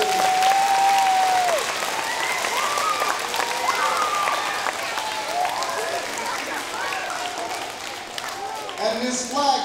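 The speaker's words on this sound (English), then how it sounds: "Give him a round of applause for this." A round of applause for a boy at a school gathering, loud at first and then thinning into scattered clapping, with children's voices and movement audible throughout.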